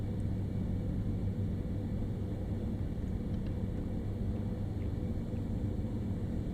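Steady train cab interior noise in the Train Sim World 4 game on the Salzburg–Rosenheim route, a constant broadband rumble and hiss with no voices, level and unbroken throughout.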